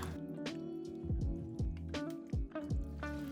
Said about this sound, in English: we're just going to give this a good stir